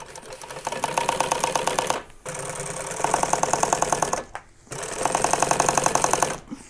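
A sewing machine fitted with a new brushless motor runs in three steady bursts of fast, rhythmic stitching, each stopping briefly before starting again, close and fairly loud.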